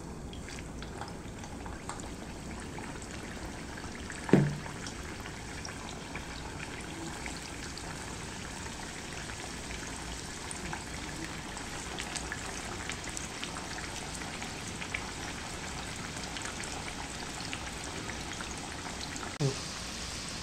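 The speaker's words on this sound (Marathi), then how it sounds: "तर मी ह्यातली ही करंजी घेणार आहे आणि आपलं तेल इथे तापलं आहे तर ह्या तेलामध्ये सोडणार आहे" Coconut and dry-fruit karanji sliding into heated oil set up a continuous soft, rain-like frying hiss that holds steady throughout, with a couple of brief clinks near the start and end.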